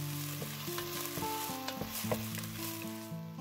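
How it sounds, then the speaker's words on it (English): Chopped onion frying in oil in a pot, a steady close sizzle with repeated clinks and scrapes of a spatula against the metal. "Next, I add onion ready cut in the pot. Fry until fragrant."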